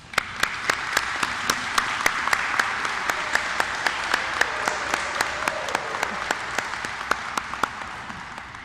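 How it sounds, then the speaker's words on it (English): Steady applause from an audience at a nursing honor society induction ceremony, greeting the new inductees with a dense, even patter of clapping and a few sharper nearby claps standing out, sustained throughout without speech. "Let's give them a round of applause."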